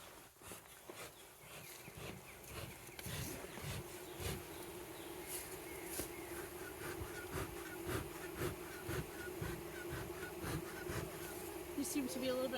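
Honeybees buzz steadily around a hive being installed after smoking in Marquette County, Wisconsin, a dense droning hum with soft rustles and knocks, with a voice talking over it now and then.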